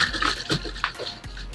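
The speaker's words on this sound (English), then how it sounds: "We'll give this jug a good shake and put it back on the shelf overnight." A jug of wine mixed with bentonite slurry is shaken, giving brief sloshing and gurgling bursts of liquid, close and moderately loud.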